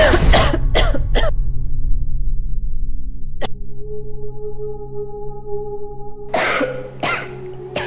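A person coughs in several sharp, harsh bursts close by, first a quick cluster, then a lone cough mid-clip and another pair near the end, with a low steady hum filling the quiet between.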